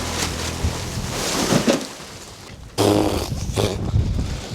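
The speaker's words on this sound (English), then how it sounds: "It's because that gate's broken, all the wind's just coming straight through here." Wind gusts through a broken garden gate, a steady rushing roar with buffeting on the microphone that swells, briefly drops away, then surges back loud and close.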